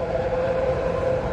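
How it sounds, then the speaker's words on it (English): A BART commuter train rumbles past near a railroad crossing, a loud, steady roar with a sustained droning tone and no talking. "Can this BART train please be quiet?"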